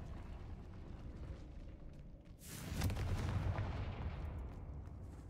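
Confringo fire spell cast in the video game Hogwarts Legacy: low ambient rumble, then a sudden fiery whooshing blast midway that rolls into a sustained booming roar, fairly quiet overall, with no voices.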